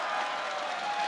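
An esports arena crowd applauds and cheers in a dense, steady wash of clapping lasting about a second.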